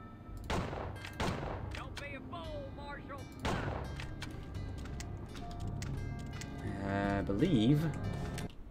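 Gunshots in the Outlaws western shooter game, a few sharp separate blasts spaced seconds apart, loud and close, with game effects and a voice talking between them.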